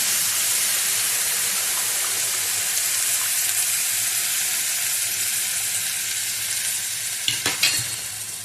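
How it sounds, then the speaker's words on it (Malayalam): Paneer soaking water poured into a hot pan for Hyderabadi paneer masala sets off a loud, continuous sizzle and hiss, with a few short clatters near the end and no talking. "ആ വെള്ളം നമുക്ക് ഇതിലേക്ക് ഒഴിച്ചു കൊടുക്കാം"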